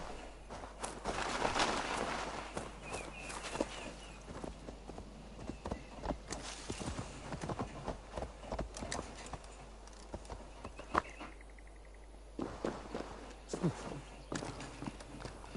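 Horse hooves in Assassin's Creed Valhalla video game, irregular clopping and galloping footfalls with game ambience and a brief snort, shifting in pace across the stretch.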